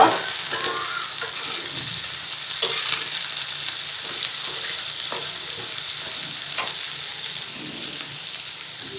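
Shrimp fry in a pan with green chilies, onion, garlic and dried chilies, giving a close, even sizzle with scattered crackles and occasional scraping stirs, continuous and unaccompanied by speech.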